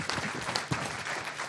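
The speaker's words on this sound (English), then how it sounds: "I want to give a big round of applause to Ned Stickman" Brief burst of dense crowd clapping at a community gathering in Independence, Kansas, steady and close for a moment.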